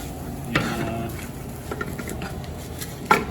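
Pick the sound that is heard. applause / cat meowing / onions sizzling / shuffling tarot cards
onions sizzling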